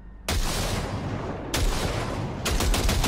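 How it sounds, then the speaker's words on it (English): Bursts of gunfire from a gun in Cyberpunk 2077: three loud sustained volleys of rapid shots, each breaking off abruptly before the next starts, close and dominant with no talking. "Fire a short burst into it."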